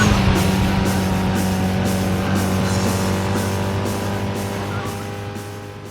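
A car races in the Burnout 2 video game on PlayStation 2, with a steady engine drone and pulsing rhythmic sound that fades slightly toward the end, with no talking.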